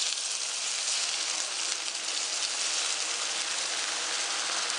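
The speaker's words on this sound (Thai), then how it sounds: "ทีนี้เราจะเติมน้ำสาดลงไปแล้วก็ปิดฝาค่ะ" Japanese gyoza hiss loudly in a hot pan after a splash of water goes in, a dense, steady, close sizzle like heavy rain that carries on without a break.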